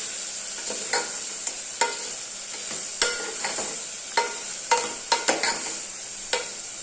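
Ingredients sauté in a pan under a bright, constant sizzle while a spoon scrapes and taps the metal in irregular strokes, close up and alone without voices.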